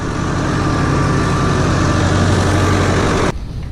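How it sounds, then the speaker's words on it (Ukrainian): A tractor engine runs loud and steady at close range while the tractor is loaded with timber, a dense, unbroken drone that drops off sharply near the end. "А вон трактор грузиться."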